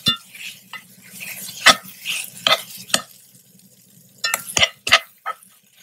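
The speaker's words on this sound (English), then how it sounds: "So I have about a pound of just regular sausage, breakfast sausage. So I just want to saute that up a little bit." Breakfast sausage, about a pound, sautéing and being stirred in a pan, with scattered scraping and clinking strikes of a utensil against the pan over a low, steady sizzle.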